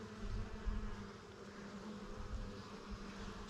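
Honey bees buzzing in an open beehive, a dense continuous hum of many insects, low and steady without breaks, fairly faint and close.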